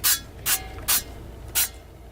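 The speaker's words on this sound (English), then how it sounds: "It's a Fry Light. It's a cooking spray." Four short bursts of Fry Light cooking spray hiss from a can, each a sharp quarter-second spurt with brief pauses between, close and fairly quiet, no talking.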